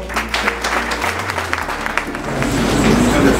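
Applause from a political party pre-congress audience in Cavally, adopting a motion by acclamation: dense, steady clapping with some crowd noise that swells louder toward the end.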